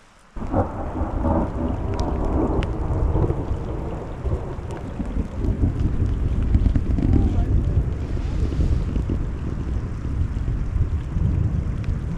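Deep, rolling thunder rumbles continuously under steady rain and wind buffeting the microphone, with a faint voice now and then, outdoors by water in Yellowstone.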